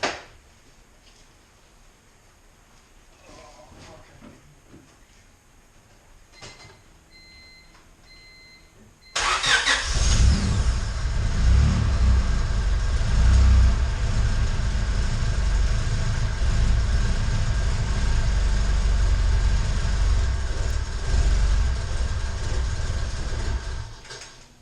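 A Honda EK Type R with a turbo setup built from eBay parts sits quiet, then its engine cranks and catches about nine seconds in, settling into a loud, rough, steady idle and run with a continuous low rumble.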